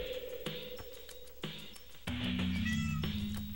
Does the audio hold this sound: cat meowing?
yes